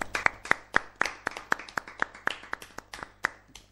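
A few people clap slowly in a loose, irregular rhythm of about a dozen sharp claps over a low steady hum, heard during an Italian local web radio broadcast.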